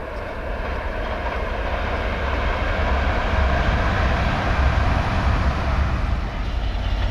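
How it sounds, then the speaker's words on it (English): Class 802 train 802-212 running on diesel rumbles past steadily near Colton Junction, a deep engine drone with broadband rolling noise that swells slightly in the middle and holds loud throughout. "802-212 runs on diesel as the wires runs out as the train continues to Liverpool."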